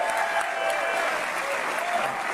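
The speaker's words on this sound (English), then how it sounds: "We can get a round of applause for seeing the Supreme Court" Audience clapping steadily at a political rally, a dense, continuous wash of applause at moderate distance with faint crowd murmur.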